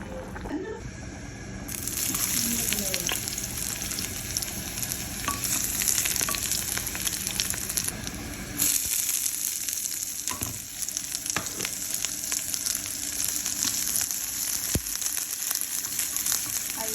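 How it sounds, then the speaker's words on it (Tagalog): Garlic and onion sautéing in a pan for a mung bean dish, a loud continuous close sizzle with occasional stirring clatter and faint watery sloshing throughout. "Igisa na tayo bawang sibuyas"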